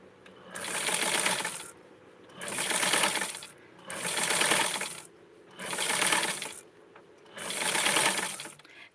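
A vintage sewing machine stitching a Blythe Skipper doll dress in five steady bursts of whirring mechanical clatter, each about a second long, separated by brief pauses, loud and close with no talking.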